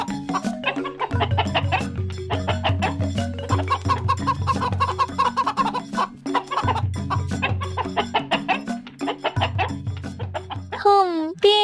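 Several chickens cluck and squawk busily in a village courtyard as they are fed, repeated near calls in uneven bursts with a low hum beneath and a warbling sound near the end.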